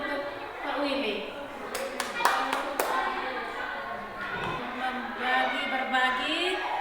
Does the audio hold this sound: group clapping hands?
yes